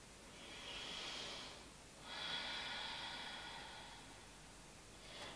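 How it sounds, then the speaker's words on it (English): A deep exhalation during a home yoga session: a soft, breathy rush of air lasting over a second, followed by a longer second breath, close and quiet with no talk. "deep breath out"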